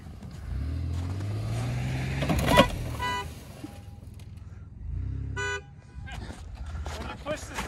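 A GMC truck horn sounds in a couple of short toots amid idling engine noise, with people talking nearby throughout.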